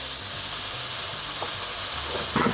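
Leftover pork dry-frying in a pan without oil makes a steady close hiss with faint scraping from stirring throughout.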